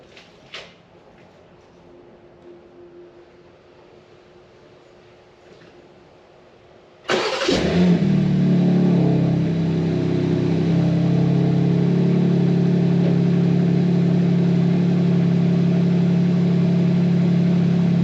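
A BMW G82 M4 engine cranks and fires up after a quiet few seconds, with a sharp burst on ignition followed by a steady, loud, close-up idle that holds to the end.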